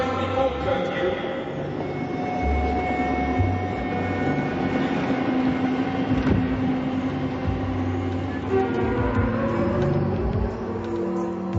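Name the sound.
train passing, radio drama sound effect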